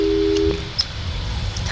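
A telephone busy tone sounds after a hang-up in the video game Portal 2, a steady low beep that cuts off partway, followed by faint electronic clicks and a soft hum.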